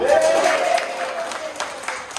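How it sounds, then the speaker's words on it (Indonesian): Audience of participants at a teaching workshop in North Jakarta giving a short round of applause, a brief wash of scattered clapping that fades over about two seconds, with faint voices mixed in. "Tepuk tangan dong."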